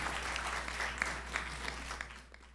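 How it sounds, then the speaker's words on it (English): An audience at a memorial lecture applauds after the talk, a continuous wash of many hands clapping at moderate distance, steady and fairly quiet, tapering slightly toward the end. "Once again, a round of applause for Ms. Anja Atienza"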